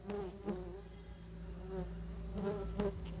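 Close, steady buzzing of many small stingless bees, mostly Biroi with some other species, a continuous droning hum with a few louder swells as insects pass near.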